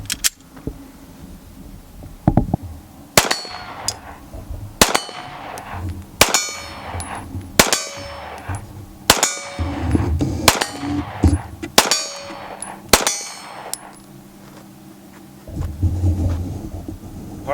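Sig 320 X5 pistol shots ringing off steel gong targets at 25 and 50 yards on an outdoor range, about nine sharp reports spaced a second or two apart, each followed by a bright metallic clang.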